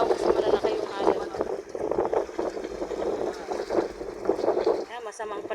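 Blustery wind buffeting the microphone over rolling water and large crashing waves on the shore of Manila Bay in bad weather, with a person talking throughout.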